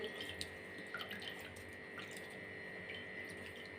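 Water drips and trickles faintly from a wrung-out napkin that was laid over potatoes being steamed in a pressure cooker, with a few soft drops over a steady background hum.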